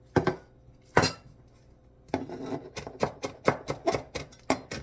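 Knife chopping iguana food on a cutting board with a dull blade: two separate close thuds, then a quick, fairly regular run of crisp chops, loud and near with no talk.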